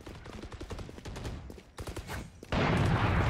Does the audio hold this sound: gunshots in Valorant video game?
yes